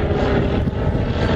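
REVO propeller aircraft flying overhead, heard as a loud, continuous engine drone with a rough low rumble that holds steady through the short stretch.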